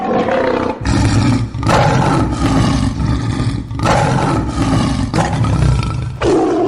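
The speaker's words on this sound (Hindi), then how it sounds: "चौंकिए नहीं, ये टाइगर, ये बाघ स्टूडियो में नहीं, जंगल में है" A tiger roars repeatedly in the jungle, several loud, deep, rumbling roars in succession with brief gaps between them, close and powerful with no talk.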